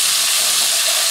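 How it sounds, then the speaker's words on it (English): Sliced garlic and aromatics sauté in a pot over meat drippings for a lamb meatball and potato stew, giving off a steady, loud, dense sizzle that never lets up. "So we're going to saute this for a minute or two."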